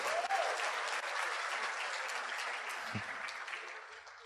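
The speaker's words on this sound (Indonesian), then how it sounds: "tepuk tangan buat istri saya ya." Seminar audience applauds, a broad, even wash of many hands clapping that holds steady and slowly fades slightly toward the end.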